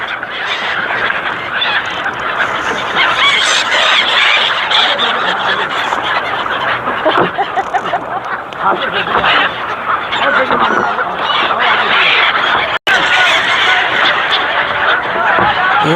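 A large flock of Siberian migratory birds gathers at the Sangam riverbank in Prayagraj. It makes a dense, continuous chorus of loud, nearby honks and calls, with faint human voices underneath.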